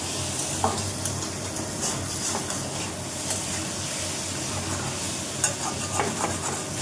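Chow mein tossed and stirred in a hot pan, a continuous sizzle with scraping and clinking utensil strokes at irregular intervals, close and fairly loud with no talking.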